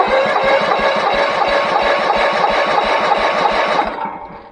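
A small gas engine with the choke off and throttle full cranks over during a compression test, throbbing in a fast, steady rhythm, loud and close, before slowing and fading at the end.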